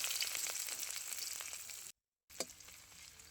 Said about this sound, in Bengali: এবারে ভেজে নেব পেঁয়াজ কুচি পরিমাণ মতো